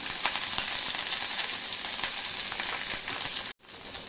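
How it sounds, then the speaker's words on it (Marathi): Mustard seeds, green chillies and curry leaves sizzle hard in hot oil, a loud steady crackling hiss with scattered pops that cuts off abruptly near the end, then resumes. "याच्यामध्ये अर्धा चमचा मोहरी टाकायची मोहरी छान फुलली की याच्यामध्ये तीन ते चार हिरव्या मिरच्या टाकायच्या त्यानंतर कढीपत्ता"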